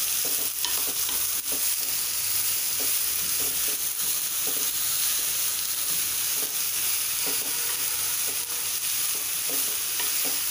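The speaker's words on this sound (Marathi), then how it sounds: "आता हा कांदा छान आपण परतून घेणार आहोत।" Onion sautéed in oil for paneer bhurji gives a continuous bright sizzle, with repeated scraping stirs of the spatula knocking against the pan at an uneven rhythm, close and steady.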